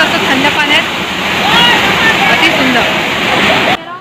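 Dudhdhara waterfall at Amarkantak, Madhya Pradesh, roars loud and close as a dense, unbroken rush of falling water that cuts off abruptly at the end.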